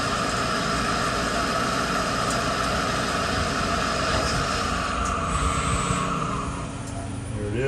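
Lathe at about 1,500 RPM taking a light finish pass on a metal workpiece, a steady, dense machine whir with a constant high tone throughout, close and continuous, easing slightly near the end.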